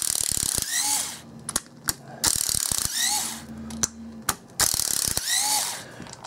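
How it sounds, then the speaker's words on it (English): A Makita driver backs screws out of a clamshell power drill housing, giving several bursts of fast ratcheting, whirring clicks with sharp taps between them, close and clear with no talking. "Let's go and get these screws out of here."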